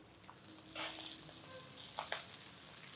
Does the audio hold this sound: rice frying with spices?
yes